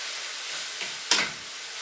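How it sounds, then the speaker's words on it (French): Beef and onions brown in a frying pan with a soft, steady sizzling hiss, broken by a faint tap and a sharper clatter partway through. "revenir ma viande avec les oignons"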